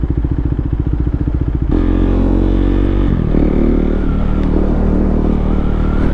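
A motorcycle is ridden along with a close, loud engine drone, thumping rhythmically at first, then shifting to a fuller, higher-pitched steady run, with no voices over it.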